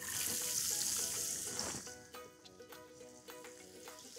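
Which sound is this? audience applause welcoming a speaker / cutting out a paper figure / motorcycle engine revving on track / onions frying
onions frying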